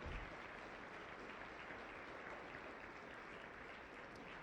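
A crowd at a military ball applauds veterans, a dense, even roar of clapping that holds steady for several seconds with no speech over it.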